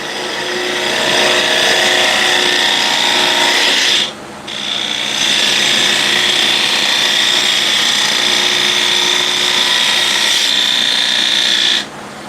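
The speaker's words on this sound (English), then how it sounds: "I can go with the ball gouge with nice short bevel, trying to get nice push cut down the middle or down the bead." A ball gouge with a short bevel makes a push cut down the middle of a bead on a wood lathe, giving a loud continuous scraping hiss that breaks off briefly twice as the tool lifts.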